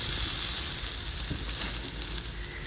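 Pork chops and squash sizzle on a BBQ grill, a steady close crackling hiss with faint pops running throughout.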